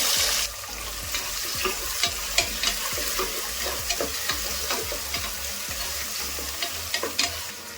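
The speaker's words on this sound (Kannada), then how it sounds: "ಇವಾಗ 3 ಈರುಳ್ಳಿ ಸಣ್ಣ ಕಟ್ ಮಾಡಿ ಇಟ್ಕೊಂಡಿದ್ದೀನಿ, ಅದನ್ನ ಹಾಕೊಂತ ಇದೀನಿ" Chopped onions, three of them, fry with spices in a pan for a mushroom pulao, giving a steady close sizzle broken by scraping stirs and small clinks.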